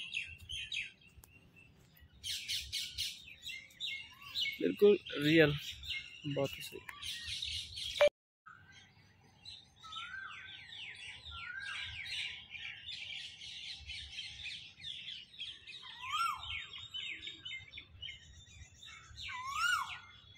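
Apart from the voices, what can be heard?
birds singing outdoors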